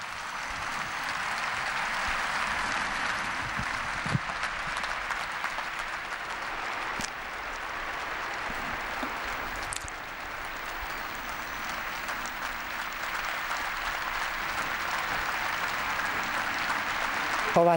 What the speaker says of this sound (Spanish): Ovación de los fieles a Benedicto XVI